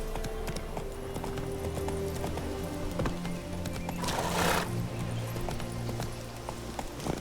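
Horse galloping in The Witcher 3, with steady hoof clip-clops, snorts and a whinny over continuous game ambience and music, a brief louder rushing burst midway.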